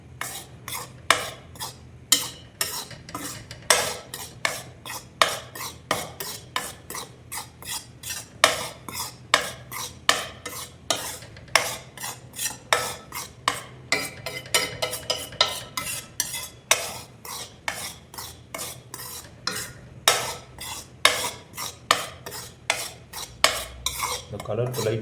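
A spoon scrapes and stirs dry-roasting laddu ingredients in a pan with no oil, in a steady run of close, sharp metallic strokes lasting throughout, with no talk.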